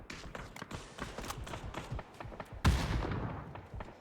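Molotov and grenade thrown in the PUBG video game, heard as a busy run of game taps and pops followed by a sudden loud burst near the end that lingers as a broad rumble.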